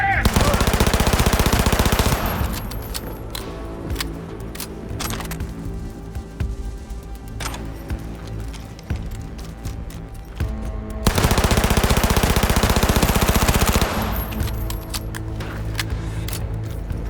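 Sustained automatic gunfire in a Cyberpunk 2077 firefight, loud dense bursts opening and again near the end, with a quieter stretch of scattered shots between and faint shouted voices mixed in.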